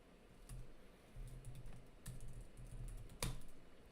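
Quiet tapping on a computer keyboard, with irregular clusters of soft key clicks and a sharper final keystroke, close and faint.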